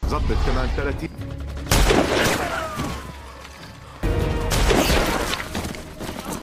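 Sniper gunfire from the war film Sniper: Ghost Shooter, with sharp loud shot bursts and crashing impacts in two main volleys, alongside rumbling action and a voice talking.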